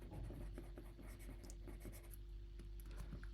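A pen scratches across paper in quick, uneven strokes, close and faint, with a low steady hum underneath and no speech.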